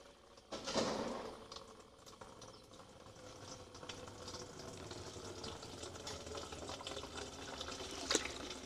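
Water draining through woven landscaping fabric into an empty 5 gallon bucket, a steady faint trickle and patter that starts after a brief louder splash and runs on evenly throughout.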